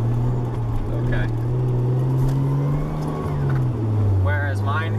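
A Nissan 240SX with a turbocharged RB20DET engine running 10 psi hums low and steady with a muffled exhaust note, the drone shifting slightly in pitch as the revs change, while someone talks over it.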